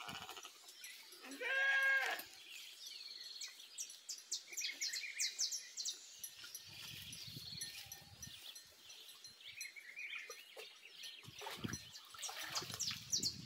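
Sheep on a farm, a loud bleat near the start followed by quieter bird chirps and scattered rustling in the background.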